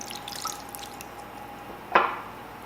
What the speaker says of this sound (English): We're going to put in a little water.